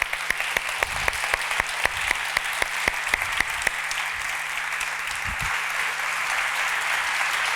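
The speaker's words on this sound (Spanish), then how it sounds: "recibimos con un fortísimo aplauso" Warm crowd applause greeting novelist Antonio Muñoz Molina on stage at the Blacklladolid 2023 literary festival, a full, even burst of clapping with a few sharper individual claps standing out, sustained for several seconds.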